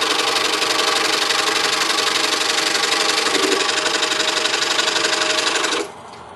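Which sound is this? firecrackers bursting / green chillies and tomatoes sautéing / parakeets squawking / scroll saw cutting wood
scroll saw cutting wood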